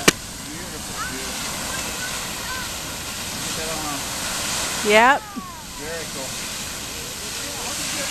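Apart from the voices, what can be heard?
Rocket and Grotto geysers erupting with hissing steam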